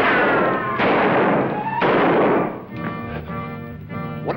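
Three loud, close gunshots crack out in an old western TV show, each bang trailing off in a booming echo, before dramatic music takes over.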